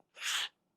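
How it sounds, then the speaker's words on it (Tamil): One sharp, breathy sneeze bursts out alone after a morning meal of very spicy masala food, followed by quiet. "பயங்கர மசாலாங்க, காலையில் சாப்பிட்டது தும்மல் வந்துக்கிட்டே இருக்கு"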